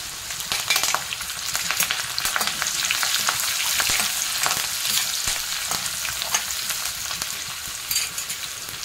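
Crushed ginger, coriander and garlic with curry leaves fry in hot oil in a pan, a loud continuous crackling sizzle with popping bursts throughout.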